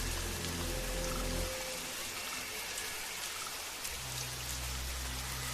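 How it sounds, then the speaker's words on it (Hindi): Steady rain falls on a quiet village road at night, a dense even hiss of drops with low rumbling undertones, fairly soft and continuous throughout with no voices. "तेज बारिश शुरू हो गई"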